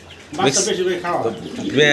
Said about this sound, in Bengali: আগের মতো বেশ কিছু কবুতর আছে আর অনেক কবুতর ছিল